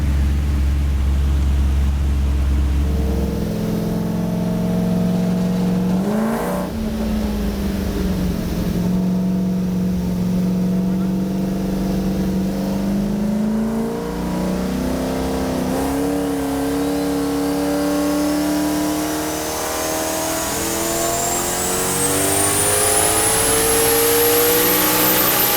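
A Toyota Supra with a massive rear-mounted turbo V8 idles roughly, then revs repeatedly in loud, close surges that climb and fall, ending with a rising turbo whistle over the sustained engine roar.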